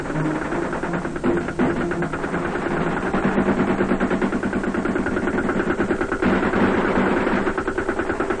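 Rapid machine-gun fire from supporting weapons during an assault in Vietnam rattles on without stopping over a droning engine, loud and fairly close throughout.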